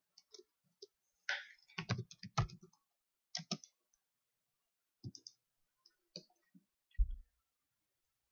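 Someone types a menu profile description on a computer keyboard: sparse, quiet key clicks in short irregular bursts with silent gaps between them.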